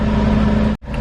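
A 2018 Aston Martin Vantage engine revs loudly and close, a steady dense roar that cuts out abruptly for a split second before resuming.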